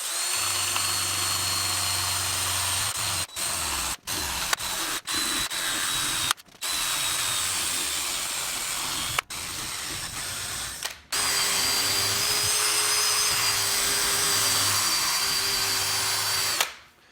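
A hand drill fitted with a Scotch-Brite pad scours a wheel rim, a loud continuous whir with scraping hiss, briefly cut off several times and resumed, running alone without speech.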